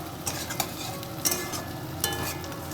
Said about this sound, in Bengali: ওটাকে একটু নেড়ে দিলাম